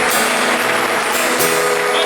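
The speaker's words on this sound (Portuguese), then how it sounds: "Vamos aplaudir o nosso Senhor" A church congregation claps together during a worship service, a dense, steady wash of hands filling the room at close range.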